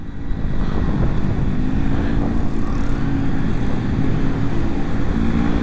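A fast motorcycle on a busy morning road gives a loud, steady engine drone, close and constant throughout, with no voices.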